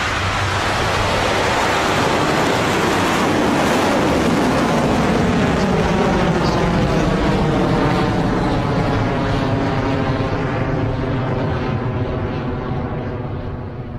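An Electron rocket lifts off from Launch Complex 1, its engines producing a loud, continuous, broadband roar with deep rumbling crackle that fills the whole stretch and fades slightly at the end.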